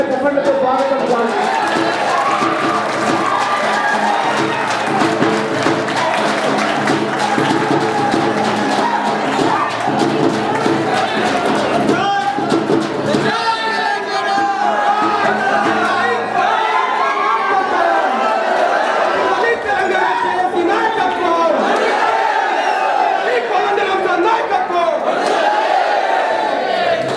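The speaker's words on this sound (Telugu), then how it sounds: "గట్టిగా చప్పట్లతో స్వాగతం సార్." An audience at a political training seminar claps and cheers to welcome a guest arriving on stage, a loud sustained wash of crowd noise and chatter throughout, with shouts rising above it.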